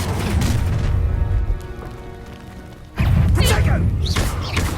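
Confringo blasting spell from Hogwarts Legacy, a loud booming explosion with crashing debris and rumbling, following a burst of combat noise, near and heavy in the game mix.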